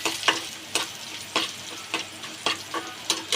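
Finely chopped garlic fries in hot oil with a soft background sizzle, punctuated by a series of sharp, regular spatula scrapes and stirs roughly every half second, close and fairly quiet.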